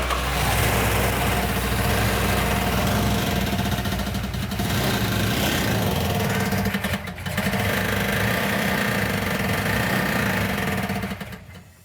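A 1970 Plymouth Barracuda engine, just repaired after a fuel delivery problem, runs loud and close with a steady rough idle throughout, dipping briefly midway before cutting off at the end.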